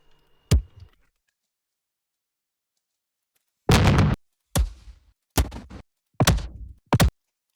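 A single deep thump, then after a pause four heavy booming impacts in quick succession, each a short bassy hit with a brief rumbling tail; a designed sci-fi explosion-like effect.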